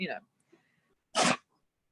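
A single sharp sneeze from a dog, brief and close, following a faint burst of sound at the start.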